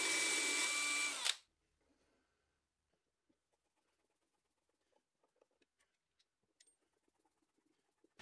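Power drill boring holes for a band saw bearing block in a workshop, a loud whirring burst lasting just over a second, then near silence broken by faint scattered clicks and taps.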